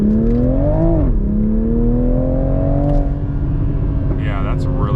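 A Toyota GR Supra 3.0 with the B58 engine revs up loudly and keeps pulling with a rising whine. A brief lift around the middle is followed by more acceleration, and a voice is heard near the end.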